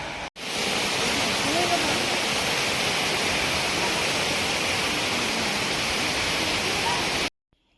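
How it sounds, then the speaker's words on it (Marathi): A waterfall near Dolphin Nose Point in Kodaikanal roars as a loud, dense, unbroken rush of water, close and steady, cutting off sharply at the end. "हे झाले आवाज लागला धबधब्याचा"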